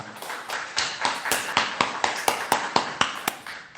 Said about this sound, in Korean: 우리 하나님께 영광의 박수 올려드리고